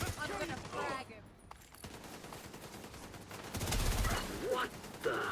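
Gunfire in the video game The Division comes as rapid bursts of shots, fairly faint and scattered through the clip. A player talks over the shooting.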